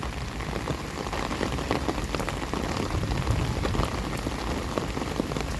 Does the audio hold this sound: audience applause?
no